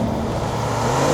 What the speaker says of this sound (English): you've got that supercharger whine